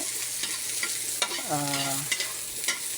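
Garlic and onion frying in a hot pan, a steady close sizzle with stirring scrapes and a brief ringing metallic tap partway through.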